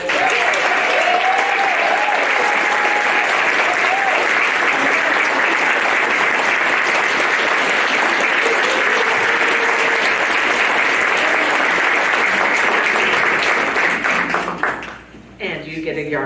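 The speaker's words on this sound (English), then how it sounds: "Your team's here to applaud you and to recognize you as well." Sustained applause from an audience at a Greenville ISD school board meeting, steady dense clapping that fills the room for about fifteen seconds before thinning out, with some voices mixed in beneath.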